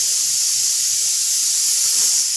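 A pressure cooker with dal inside hisses steadily, a loud continuous high steam jet that holds level without a break for the whole short stretch.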